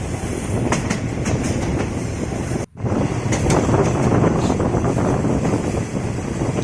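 Local train 431 rolls through forest in the morning with a continuous loud rumble and rhythmic clickety-clack from the wheels, dropping out for a brief instant midway.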